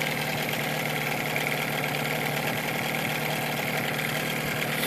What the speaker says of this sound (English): Motor has new impeller and carburetor kit.